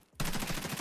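Full-auto rifle fire in Escape from Tarkov, a sustained rapid burst of loud, close shots that starts abruptly after a brief quiet and keeps a steady rhythm to the end, with no talk over it.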